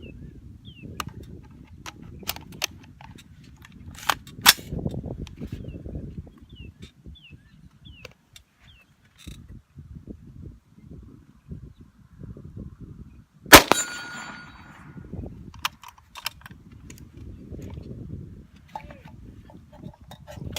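.223 rifle rounds striking AR500 steel targets outdoors, sparse sharp metallic clangs and pings spread across a long stretch, one much louder ringing hit near the middle, over a low rumbling background.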